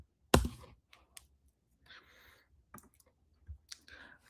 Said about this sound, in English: I'm going to type in attention mechanism